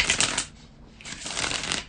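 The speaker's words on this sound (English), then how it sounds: "bear with me a couple of seconds, guys, to shuffle the tarot cards" A deck of tarot cards is shuffled by hand in two quick riffling bursts separated by a brief pause, crisp and close, with no talking.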